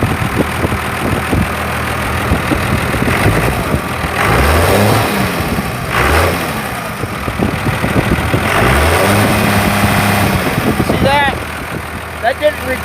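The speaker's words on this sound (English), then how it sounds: "That's a nice running little truck." An old school Cummins diesel in a small truck revving several times from idle, each loud throttle blip rising and falling, close by with someone talking between revs.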